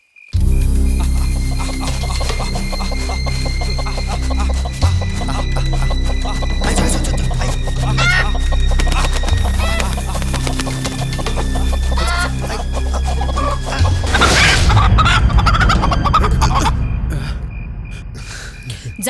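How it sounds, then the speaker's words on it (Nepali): A rooster clucks and squawks in agitated bursts while someone scrambles to catch it, with scuffling, gasps and a loud flurry of flapping near the end; voices are heard briefly. "भालेलाई भाले समाउन गाह्रो हुँदो रहेछ"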